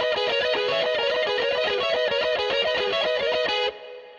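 A distorted, electric-guitar-like melody harmonized in thirds plays in quick, evenly plucked notes for nearly four seconds, then cuts off to a fading ring.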